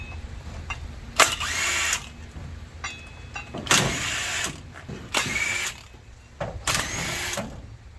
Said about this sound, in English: This little impact here is very, very handy.